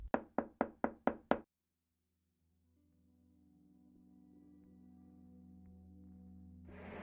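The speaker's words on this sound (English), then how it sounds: "he raised his knuckles and knocked firmly on the door" Six firm knocks on a door in quick, even succession, then silence, with a low hum slowly rising afterward.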